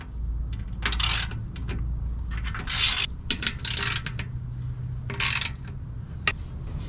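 A ratchet with a 13 mm socket works skid plate bolts loose on a 2023–2024 GMC Canyon, producing short bursts of rapid clicking mixed with metallic clinks and knocks up close.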